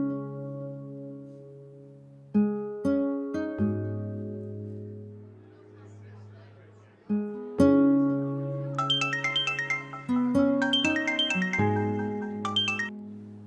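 A melodic phone ringtone for an incoming call plays alone, a repeating chiming tune with bright bell-like tones that swells louder partway through and keeps cycling without a voice over it.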